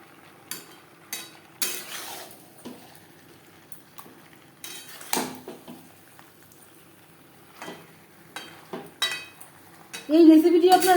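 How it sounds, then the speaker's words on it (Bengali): Potato, pointed gourd and soybean pieces are stirred with spices in a pan over a high-to-medium flame, with sparse metallic clanks and scrapes separated by quiet gaps. A louder tonal sound rises at the very end. "হাই টু মিডিয়াম ফ্লেমে মশলার সাথে সবজি আরও 4-5 মিনিট নাড়াচাড়া করে নেব।"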